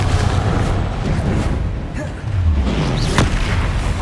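A Confringo blasting spell in the Hogwarts Legacy video game, a heavy booming explosion with a sustained low rumble and a crackling burst near the end, loud and close in the middle of spell combat.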